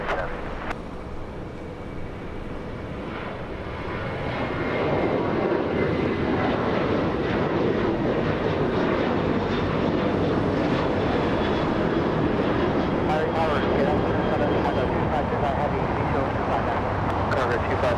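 An American Airlines heavy jet, flight 136 bound for London, roars on takeoff from runway 25 right at LAX, its broad engine rumble building after a few seconds and holding steady and loud, with faint radio chatter underneath.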